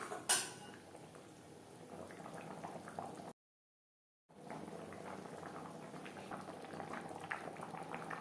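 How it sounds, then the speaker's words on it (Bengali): Eggs simmer in cauliflower gravy in a pot, a low bubbling and burbling with a faint clink at the start, quiet and close, broken by a second of silence before the simmer resumes. "গ্রেভির সাথে ডিম আরও 3-4 মিনিট রান্না করব।"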